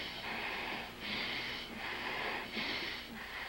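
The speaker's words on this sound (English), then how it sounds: "And listen, hear how you're puffing?" Heavy, labored puffing breaths from exertion after working the muscles, coming in regular surges about once a second, close and fairly loud with no talking.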